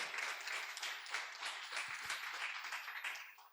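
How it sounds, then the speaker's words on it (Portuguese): A church congregation at an Easter Sunday celebration service breaks into warm, sustained applause, a dense wash of many hands clapping together at moderate distance, steady throughout with no voices standing out. "Dê um forte aplauso a Jesus."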